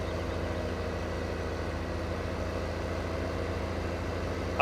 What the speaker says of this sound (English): And this is a little bit of a heavy load for this tractor.